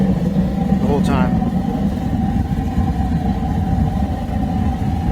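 Waste oil heater fitted with a burn bowl runs at full output, a steady loud low roar and rumble of burning throughout, with a brief whistling sweep near the start.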